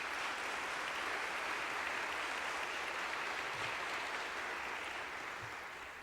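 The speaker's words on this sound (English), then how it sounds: "I ask you to give all those people a great big round of applause." A graduation crowd at the MC Law 2022 ceremony applauds law school support staff with a steady, distant wash of clapping that holds evenly and then fades slightly at the end.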